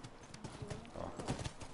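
Horse hooves clip-clop at a steady, rhythmic walking pace in The Last of Us Remastered, each hoofbeat a sharp knock over a low background rumble, fairly close and clear throughout.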